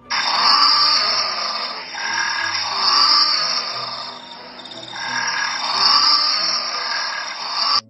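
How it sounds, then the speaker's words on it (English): A blue penguin, also called a fairy penguin, under a house gives loud, harsh braying calls in rhythmic swells, rising and falling in about three long waves, close and steady, with no voices. "It's all fun and games until you find out what a penguin trying to pipe sounds like."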